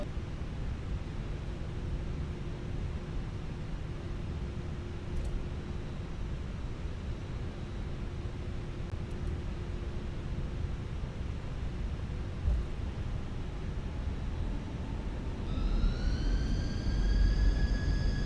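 Airbus A319 engines in the Fenix A319 flight simulator during takeoff, a steady broadband roar with a low hum, then rising whine tones near the end as thrust builds, no talking.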